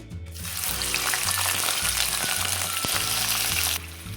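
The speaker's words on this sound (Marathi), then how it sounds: "तेल तापलं की यामध्ये आपण वांग्याचे काप घालून घेऊया" Brinjal slices frying in hot oil in a kadai, a loud continuous sizzle that starts abruptly and holds steady for several seconds before easing, with low hum underneath and no talk.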